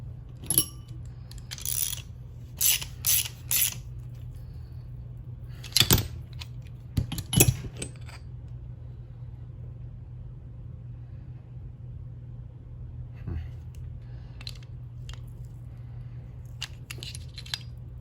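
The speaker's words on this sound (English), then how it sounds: "Get our bearing puller." Bearing puller working a stubborn bearing off a Traxxas-style monster truck, scattered close metallic clicks, clinks and small tool taps over a low steady hum, with quiet gaps between.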